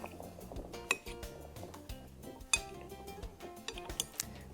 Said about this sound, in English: Now I'm going to stir this together so the butternut squash is coated with the oil